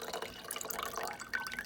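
Tap water being poured out, splashing and trickling briefly in a short burst with faint drips, no voices.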